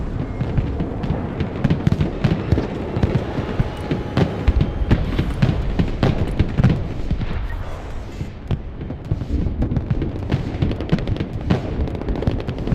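Rocket and weapons fire in the battlefield video game Broken Arrow, a dense, continuous barrage of overlapping bursts and booms that stays loud throughout with no pauses.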